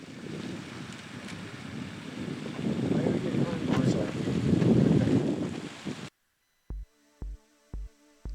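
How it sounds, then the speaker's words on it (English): Wind blows steadily during an RC sailboat race of DF65 yachts, a rushing gusty noise that swells and fades for about six seconds before it cuts out abruptly, leaving a few separate low thumps. "The wind has picked up really nicely."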